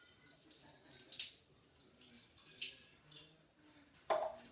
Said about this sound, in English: Now I'm going to put some sanitized water into this one.